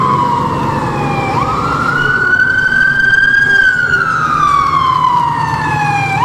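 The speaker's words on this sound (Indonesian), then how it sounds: "Ada mobil ambulan" An ambulance siren wails in long, sliding rises and falls over steady road traffic noise, loud and close throughout.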